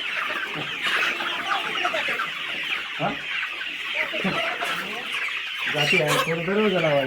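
Native desi chickens on a poultry farm cluck and squawk close by, with overlapping calls and a louder burst of clucking near the end.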